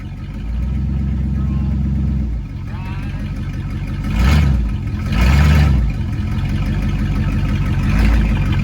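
An old Monte Carlo car engine runs steadily while driving, then revs up twice in loud surges before settling back to a rumbling drive.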